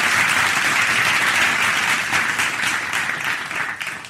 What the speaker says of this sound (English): she actually deserves a round of studio applause